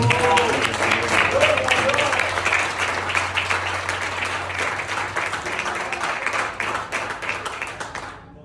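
A church congregation applauds during a service, dense clapping from many people that holds steady for several seconds before cutting off abruptly.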